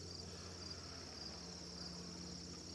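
Honey bees hum at an open beehive holding two queens, a soft, steady drone that stays even and quiet from start to finish.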